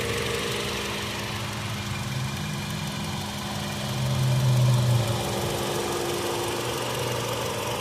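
A 2020 Toyota Camry LE engine idles steadily with a smooth, even hum, swelling briefly midway before settling back to a constant close drone.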